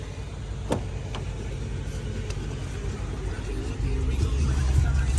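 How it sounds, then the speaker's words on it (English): A used car for sale idles steadily, a low continuous engine rumble that swells slightly toward the end, with a few faint clicks on top and no talking. "So that idle is dropping."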